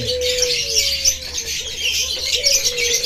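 A violet Ewing lovebird chirping in a bird market, with repeated bright tweets and short calls close by, over a steady chorus of other birds.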